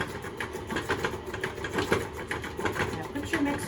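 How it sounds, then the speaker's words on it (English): A KitchenAid stand mixer runs on low while cocoa is added, giving a steady close mechanical whir with a rhythmic pulsing churn throughout. "Now put your mixer on low."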